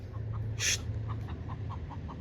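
Soft, scattered clucks from chickens over a steady low hum, with one sharp brighter call near the start.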